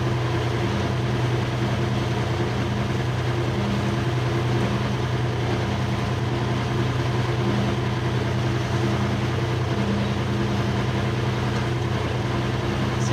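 A tractor engine runs steadily while being driven, a loud, close, continuous low drone with a throbbing mechanical hum and no talk over it.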